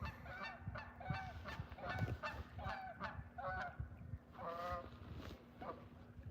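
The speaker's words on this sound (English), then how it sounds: "Ducks are loud." Loud duck honking and quacking at a lake in repeated bursts, several birds calling over one another close by, with a steady low hum underneath.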